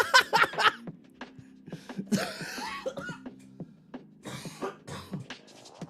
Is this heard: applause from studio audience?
no